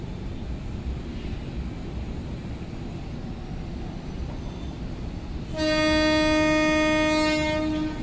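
KRL commuter train at Manggarai station in Jakarta, with rumbling rail noise followed by a loud, sustained horn blast of about two seconds near the end.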